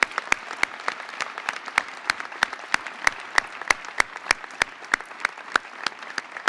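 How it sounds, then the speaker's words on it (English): Audience at a police graduation ceremony applauding veterans who stand, a steady patter of individual claps, somewhat sparse and distinct, continuing for several seconds at moderate volume without talk. "Let's give that a round of applause."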